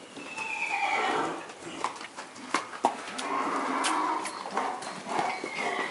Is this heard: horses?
yes